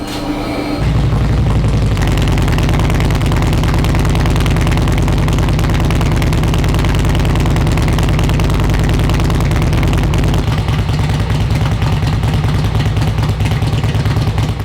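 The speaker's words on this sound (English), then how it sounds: "I'm going to give you a quick sound of what I got so far with this bike, with those pipes" Steady, loud idle of a 2005 Harley-Davidson Road King with aftermarket pipes, close up, with a constant low rumble that shifts slightly partway through. There is no speech.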